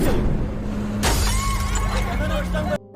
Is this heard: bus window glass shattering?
yes